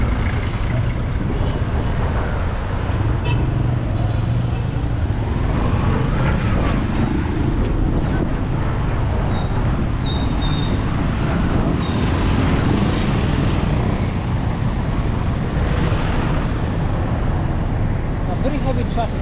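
Heavy street traffic rumbles through Mombasa town, a loud continuous roar of engines and road noise heard from a moving bicycle, with a voice talking over it.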